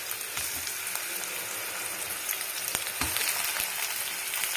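Eggplant for a North Karnataka–style brinjal dish sizzles and crackles steadily in a hot pan, a dense close frying hiss with occasional sharper pops and stirring scrapes.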